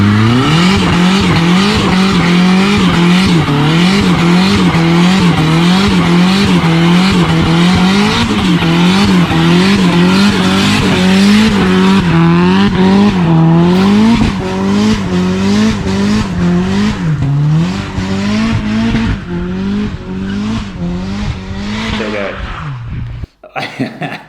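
A turbocharged Mazda MX-5 with a BBR turbo and 60mm turbine revs loudly and continuously, its engine note rising and falling through repeated gear pulls for most of the run before cutting off abruptly near the end.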